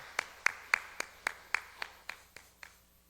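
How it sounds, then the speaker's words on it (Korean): A church congregation claps in unison, about nine sharp, evenly spaced claps in a steady rhythm that fade slightly toward the end. "우리 하나님께 영광의 박수 돌립니다"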